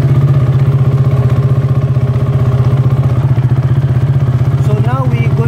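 Motorcycle engine idles in first gear on a stand, rear wheel and drive chain turning, with a steady loud rhythmic chug and light mechanical clatter that runs throughout.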